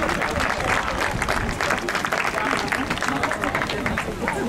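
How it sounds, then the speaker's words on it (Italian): Spectators at an outdoor women's 10,000 m elimination track race in San Miniato applaud two athletes, steady dense clapping with crowd chatter and an announcer's voice continuing underneath throughout. "Applauso alle due atlete di Siena,"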